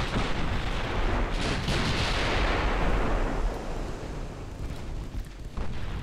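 Heavy naval guns firing high-explosive shells in the naval warfare game Ultimate Admiral Dreadnoughts, a dense continuous rumble of booming salvos that stays loud and broadband throughout.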